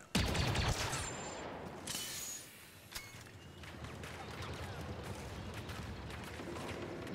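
Distant, fairly quiet gunfire in the Star Wars Battlefront 2 video game, with a loud burst near the start and then a steady background of battle noise and scattered shots.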